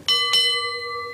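A bell is struck twice in quick succession, loud and bright, each ring leaving a clear sustained tone that fades slowly.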